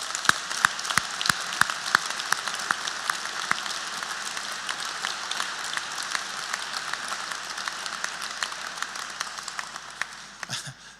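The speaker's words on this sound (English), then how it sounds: "join me in a round of applause for our teaching staff" Audience applause for the teaching staff at a college graduation ceremony in a large hall, a steady wash of many hands clapping that carries on for about ten seconds before starting to thin out at the very end.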